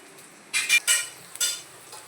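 Strips of thinly sliced potato tipped into a frying pan of fish curry with bummalo fish, giving a few short bursts of sizzling and scraping, then quieter sizzle between them, with no talk.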